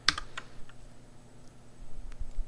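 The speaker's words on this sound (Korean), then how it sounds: "컨트롤 F5번 눌러서 실행을 해보도록 할게" Ctrl F5 pressed on a computer keyboard during coding work: a few close, crisp key clicks cluster at the start, then faint scattered taps over quiet room noise.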